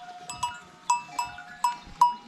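A young pet lamb named Pamuk, orphaned as a twin, calls on a village sheep farm on shearing day. Five or six short, fairly close calls come at a steady pace, each with a clear ringing tone over quiet background noise.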